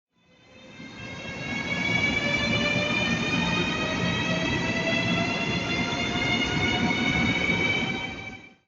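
A train rolls through a large railway station in China with many parallel tracks. A deep rumble swells in, holds steady with high wheel squeal and whining tones, then fades away. No voices are heard.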